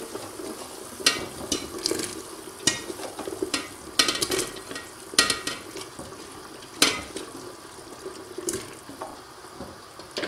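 Vegetables simmering in a pot in a home kitchen, with a bubbling wet sizzle under repeated loud clanks and scrapes of a spoon against the metal as they are stirred; no speech.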